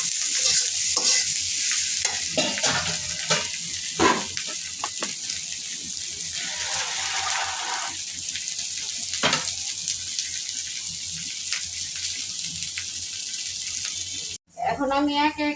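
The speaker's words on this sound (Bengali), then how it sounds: "একটু লবণ দিব, একটু হলুদ দিয়ে আমি তেলে ভাজবো।" Potatoes and onions fry in hot oil with salt and turmeric, giving a steady close sizzle broken by scraping stirs and clinks of a utensil against the pan, before cutting off abruptly near the end.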